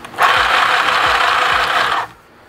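A mini sewing machine stitching fabric runs in one steady mechanical whir for about two seconds, close and fairly loud, then stops.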